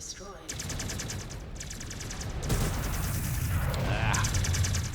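Mech weapons in MechWarrior 5 Clans firing in fast repeating bursts, rattling volleys with booms and crashes of explosions swelling toward the end, loud and continuous amid game sounds.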